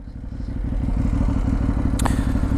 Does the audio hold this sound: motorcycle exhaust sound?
yes